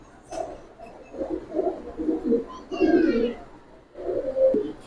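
Pigeons coo repeatedly at a pigeon market, soft throaty calls overlapping close by, with a brief higher chirp among them and faint background murmur.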